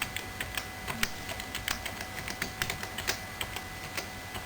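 Keys clatter on the keyboard of a 1978 Apple II Europlus computer, a steady run of quick, crisp clicks close to the mic, with no talking.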